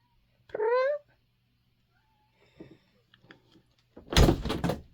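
A pet cat named Smudge gives a single clear, questioning meow up close, followed by quiet shuffling and then a louder burst of rustling or door-like noise.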